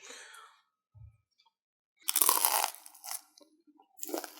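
Bites into crunchy frozen pepperoni pizza during a taste test, loud close crackling crunches in short bursts separated by silences, with a brief soft breath or murmur near the start.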